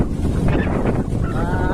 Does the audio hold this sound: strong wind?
yes